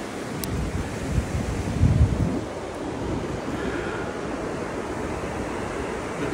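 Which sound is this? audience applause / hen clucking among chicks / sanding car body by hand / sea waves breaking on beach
sea waves breaking on beach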